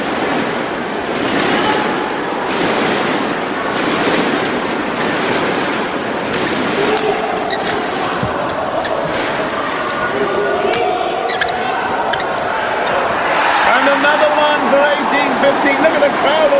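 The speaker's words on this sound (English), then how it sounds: "Look at the crowd on their feet." A badminton crowd at a Super Series Masters women's doubles semi-final cheers on its feet, a broad, sustained roar of applause and shouting filling the arena, with a commentator talking over it.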